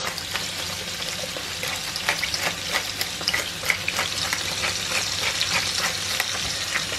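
A skinned cod fillet fries skin side down in a pan, giving a steady, loud crackling sizzle with dense spitting pops throughout, no voices.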